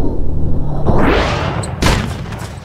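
Musket shots in the battle game TABS go off as two heavy booming blasts, a thunderous report followed by a second sharp crack, loud and close with a rumbling tail.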